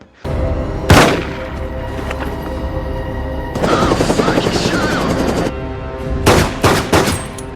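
Gunfire from the film Seven, where Mills shoots John again and again: a sharp opening shot, then a stretch of dense rapid firing and a few more loud cracks near the end, heavy and close.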